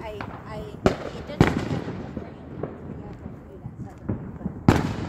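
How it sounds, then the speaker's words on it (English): Fourth of July fireworks go off at a distance, a few sharp bangs and pops standing out over a steady crackling background, with some talk mixed in. "We're starting to get to the good fireworks."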